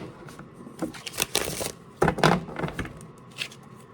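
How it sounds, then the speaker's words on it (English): Stiff tarot cards are riffled and shuffled by hand in close, irregular bursts of crisp flapping and slapping, with short pauses between. "These cards are very stiff. It's difficult to get a good shuffle."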